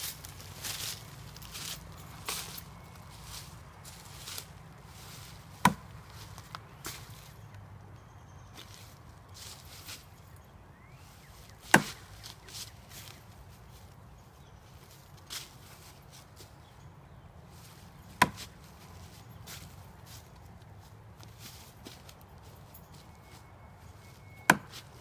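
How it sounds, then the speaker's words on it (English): A Gerber Bear Grylls Ultimate fixed-blade knife is thrown without spin into wood, landing as four sharp, isolated thunks roughly six seconds apart over a quiet outdoor background. "We're gonna throw the knife, no spin, a few times into some wood over here"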